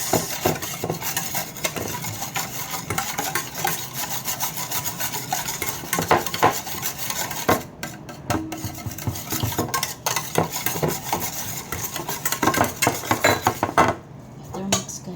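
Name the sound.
mixing chicken with salt and marinade in a bowl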